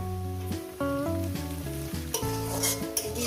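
Shrimp fry in a pan with turmeric for a water spinach dish, giving a steady sizzle with stirring scrapes, while tonal music plays over it.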